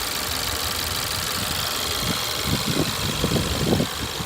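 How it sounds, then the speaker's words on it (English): A 2017 Ford Edge Titanium SUV engine idles steadily up close, a continuous mechanical hum laced with fast, light ticking from the fuel injectors firing. "I hear the injectors firing"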